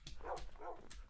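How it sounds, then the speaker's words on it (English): Dogs in the block-building game Minecraft giving a couple of quick faint barks and yips close together, quiet and brief. "I can't believe it brought all the dogs."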